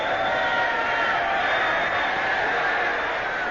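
A boxing arena crowd roaring in a steady, dense wall of noise over an old band-limited radio broadcast of a heavyweight bout, continuous and fairly loud.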